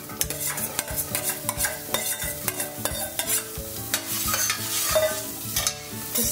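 Chopped onion cooking in coconut oil with salt, stirred constantly, giving a busy run of scraping and knocking utensil strokes over a gentle, continuous sizzle.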